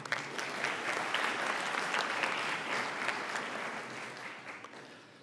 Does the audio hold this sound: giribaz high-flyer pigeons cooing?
no